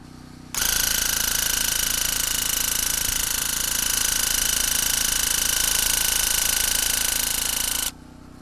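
Graco TrueCoat 360 handheld sprayer running on its lower setting while spraying stain onto boards, a loud steady buzzing whine that starts abruptly, holds for about seven seconds and cuts off sharply, close by.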